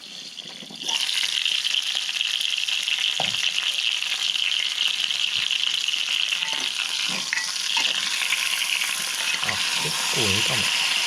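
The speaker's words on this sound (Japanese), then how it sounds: "皮の面からだいたいこれね、5分ぐらいで一発目焼いてきましたね" Chicken thighs sear in a Dutch oven inside a wood stove, with a loud, steady hiss of frying fat that swells sharply after the first second and continues under brief, faint voice fragments.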